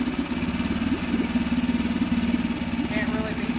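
A Honda 5 hp four-stroke outboard motor idles steadily nearby with no choke or throttle, an even, throbbing chug and no change in pace.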